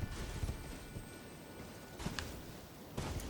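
A horse gallops in the video game Elden Ring, its hooves making soft, rhythmic clip-clop thuds that recur in short clusters over quiet, low game ambience.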